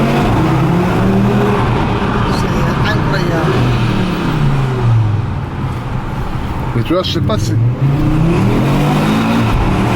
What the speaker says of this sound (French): j'avais cette moteur-là, le 5 cylindres, biturbo individuel, le bruit qu'il a cette moteur